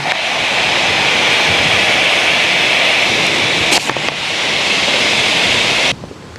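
A hot granite stone dropped into water outdoors in the wild sets it boiling, giving a loud, steady, close hiss and seething rush that holds for about six seconds before suddenly dropping away.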